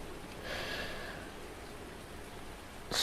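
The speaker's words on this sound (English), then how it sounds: "it's definitely raining quite heavily" Heavy rain falls on a farm in a steady, close hiss of pattering drops, with a brief louder burst near the end and no talking.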